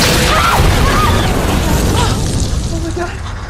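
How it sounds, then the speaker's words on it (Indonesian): A loud, sustained burst of electronics exploding during a power failure, booming crashes and popping debris, dense and chaotic, with harmonic whistling tones and voices tangled in the noise. "Tiba-tiba semua elektronik meledak dan listrik padam."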